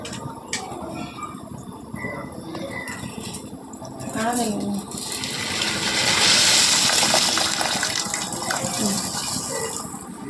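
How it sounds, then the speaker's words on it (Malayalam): Rice tipped into a pot of boiling water on a home kitchen stove for biryani, with a rushing splash and gush that swells midway, then steady bubbling, and a voice faintly in the background. "വെള്ളം തിളച്ച് അപ്പം ഇനി ഞാൻ അരി ഇട്ട് കൊടുക്കുവാണേ"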